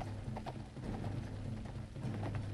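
Horses clip-clop in World War I era footage, a scattered series of faint hoof knocks over a low mechanical rattle and hum.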